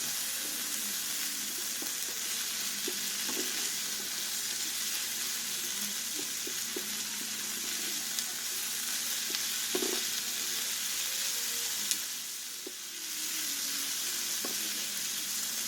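Salted and peppered steak sizzles in a pan for steak fajitas, a continuous close frying hiss with occasional light scrapes and knocks as it is stirred, and no talking.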